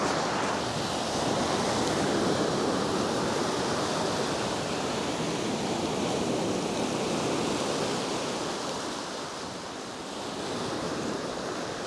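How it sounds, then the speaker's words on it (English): Ocean surf breaking along the rocky coast at Howth near the Baily Lighthouse, a continuous loud roar of crashing waves with slow swells in intensity, heavy wind noise on the microphone and no voices. "I think they say it's every 13th wave is the roughest"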